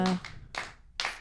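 A few scattered claps at a Swahili talk show, three short bursts spaced about half a second apart, faint and without cheering.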